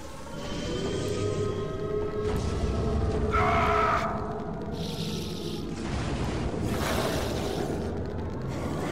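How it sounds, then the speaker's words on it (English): An alarm siren wails through a dark, industrial soundscape in a Doom 2 total conversion mod, its steady tone rising and falling over rumbling, booming game noise, with no talking. "And there's an actual siren going off."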